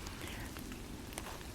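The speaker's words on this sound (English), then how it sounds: "you can hear the rain dripping down the leaves" Rain drips down leaves in a Kent woodland garden, a dense, even patter of drops with a few sharper ticks standing out close by.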